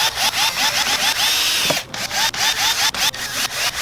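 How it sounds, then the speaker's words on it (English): A power drill whirs continuously while boring holes through the side panel of a car amplifier in a Corolla, loud and close, with brief pauses and rising pitch as the bit bites. "put it up against the side of the amplifier like this, drill my holes"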